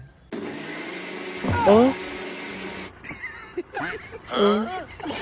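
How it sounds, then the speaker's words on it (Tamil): A kitchen mixer grinder whirs loudly and steadily for a few seconds, then stops as people talk over and after it. "என்ன மிக்ஸி ஓடுது?"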